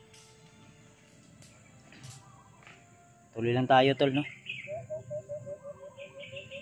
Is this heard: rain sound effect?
no